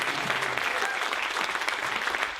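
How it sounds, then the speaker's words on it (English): An audience at an annual farmers' meeting gives steady, close applause, a continuous dense wash of clapping with no pause. "can we just give an applause to people?"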